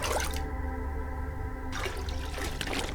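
Toilet water being collected in The Long Dark on Interloper difficulty at Carter Station: a steady rushing flush of water lasting most of the clip, close and loud, with no talk.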